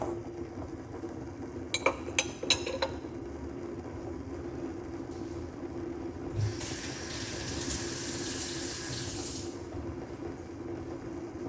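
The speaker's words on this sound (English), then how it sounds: "we're going to pour a little bit more water" Water pours into a vessel for a short stretch after a few faint clinks, a soft steady splashing stream that runs for about three seconds against a quiet background.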